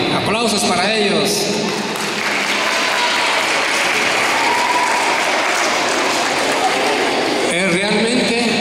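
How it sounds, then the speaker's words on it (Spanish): Crowd applause for children at a violence-prevention event in Patzún, steady clapping mixed with cheers and voices throughout, fairly loud and close. "¡Aplausos para ellos!"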